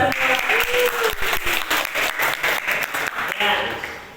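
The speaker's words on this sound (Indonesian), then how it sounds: "Aplaus buat kita semua." An audience at a school guidance and counselling session breaks into steady applause, dense clapping that swells and then tapers off near the end.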